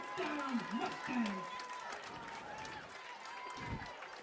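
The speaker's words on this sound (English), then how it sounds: "He's got the whole crowd standing up here cheering for him right now." A high school football crowd at a Plum vs. McKeesport game cheers and claps after a touchdown run, with a voice carrying over the noise of the stands.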